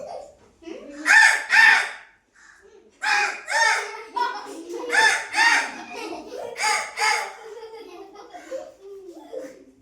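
A voice imitates a crow's caw in several loud, nasal bursts separated by short pauses.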